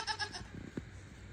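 A Nigerian dwarf goat, a miniature breed, gives a short, faint bleat of two or three quick pulses, followed by quiet background noise.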